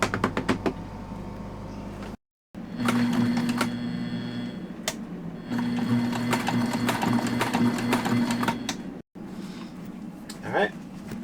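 A sewing machine stitches fabric aboard a sailing boat, running in two steady bursts of rapid mechanical chatter, broken by short pauses and knocks, close and fairly loud.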